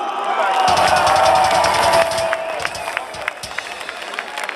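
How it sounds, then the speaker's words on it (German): A crowd at the Rockspektakel rock festival applauds for the bands, with dense clapping and cheering that gradually thins and fades. "Mal ganz schnell Applaus für alle Bands, die heute gespielt haben"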